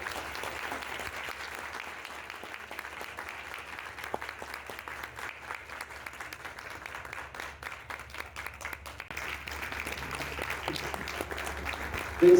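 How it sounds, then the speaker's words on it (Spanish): Audience applause fills a theatre award ceremony for Carabobo's National Theatre Day, a steady wash of clapping from a sizable crowd that holds for about twelve seconds at moderate distance and swells slightly toward the end. "Un aplauso."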